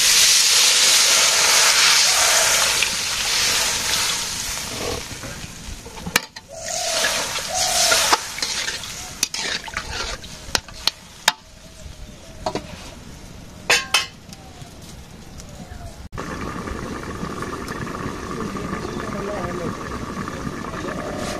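Curry in a pan bursts into loud hissing sizzle and steam as broth is poured in at a village kitchen, then settles into quieter bubbling, with clattering of utensils and birds faintly behind.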